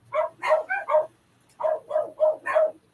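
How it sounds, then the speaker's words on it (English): A dog barks in two quick runs of four sharp barks each, moderately close, with a brief pause between the sets. "let me get that dog to stop barking if I can"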